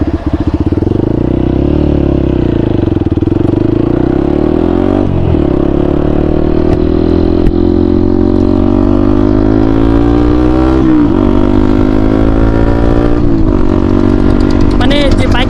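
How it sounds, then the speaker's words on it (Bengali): A motorcycle with an aftermarket SC project exhaust, loud and close, its engine droning and rising and falling in pitch as it revs and rides, continuous throughout. "তো ফার্স্টের দিকে হচ্ছে বাইকটার সাউন্ড একটু শোনাই,"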